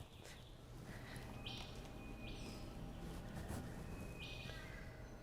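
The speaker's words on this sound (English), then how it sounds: "So you can test these bird calls." Bird calls captured by an environmental monitoring recorder, with several short chirps and whistled notes from different birds over a steady, noisy outdoor background.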